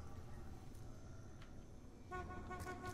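In Call of Duty: Black Ops 2 Zombies, a bus horn blares with a sustained tonal honk that starts partway through, over quiet rumbling game background.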